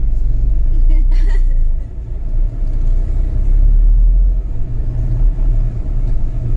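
A rented car driving, its engine and road noise forming a loud, steady low rumble that dips briefly partway through, with a voice talking at moments over it.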